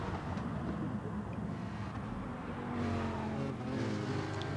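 Race cars in a racing video game roar at low level, their engines droning and revving together as a crowded pack, with a faint voice now and then.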